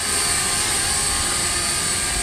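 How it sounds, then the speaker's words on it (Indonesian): An S105A selfie drone flying outdoors in wind, giving a steady, loud, high-pitched whine of small propellers that holds without a break, with no talking. "Drone ini sangat mudah dibawa angin."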